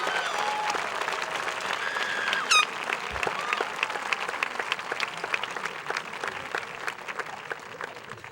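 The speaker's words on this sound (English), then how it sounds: "Please give a warm round of applause for our recipients." A high school graduation crowd, in a large hall, gives warm, sustained applause for scholarship recipients, with dense clapping, a brief whistle and scattered cheers throughout.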